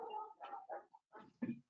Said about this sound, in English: I apologize about that barking in the background